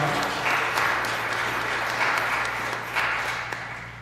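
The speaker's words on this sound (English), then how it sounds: "Let's give a round of applause to our birthday folks." A church congregation claps steadily for birthday celebrants during a livestreamed service, a moderately loud, even patter of applause throughout over a low hum.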